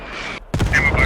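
Enemy mortar fire in a tactical shooter game, with a sharp booming impact followed by rumbling blasts and a distant whistling tone over a short burst of game noise.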